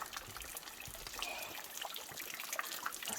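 A steady, fairly quiet trickle of water runs beside a levada trail on Madeira, below a lush green cliff face, with no voices over it.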